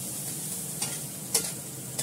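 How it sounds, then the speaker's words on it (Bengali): Steady sizzling of hot oil in a pan as cumin seeds fry with onions, a soft continuous hiss close by with a few brief scraping stirs. "তারপরে দেবো জিরে ফোড়ন"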